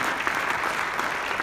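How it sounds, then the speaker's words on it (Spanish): A church congregation claps together in sustained applause during an evening worship service, a dense, steady patter of many hands close around, with no talking over it. "Dile un aplauso al Dios de los cielos en esta linda noche."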